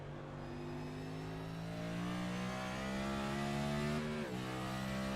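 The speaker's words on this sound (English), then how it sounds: "Downshifting." A race car in the iRacing video game at Watkins Glen, heard in-car: a steady, loud engine drone that climbs in pitch, then briefly breaks as the driver downshifts before settling back into a continuous roar.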